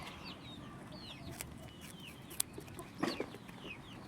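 Chickens cluck softly in a pen during a rabbit feeding, a few faint bird calls and small knocks scattered over quiet background noise.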